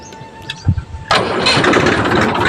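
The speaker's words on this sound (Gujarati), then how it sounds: "પહેલાં હું ટ્રેક્ટર ચાલુ કરી રાખું થોડીક વાર" A tractor engine cranks briefly with a key, then catches and settles into a loud, steady diesel rumble close by, running on alone without talk.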